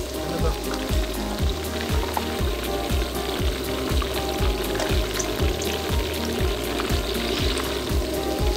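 Chicken pieces frying in hot oil in a Thattukada-style kitchen, a loud, continuous crackling sizzle with a regular pulsing rhythm, close up and alone.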